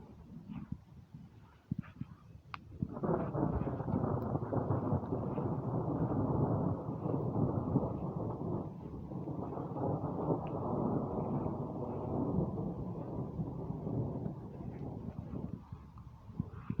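Thunder from a thunderstorm rolls in as a long, deep rumble that swells and lingers for over ten seconds, fairly loud and then gradually fading.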